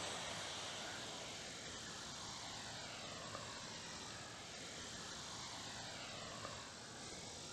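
An FMS 64mm EDF F-16 RC jet making a pass over a runway, its ducted-fan whine faint and distant, sweeping slowly in pitch over a steady rushing hiss.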